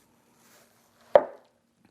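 A single sharp knife chop through a watermelon while cutting it into cubes, one crisp close thud that fades quickly, with quiet stillness before it.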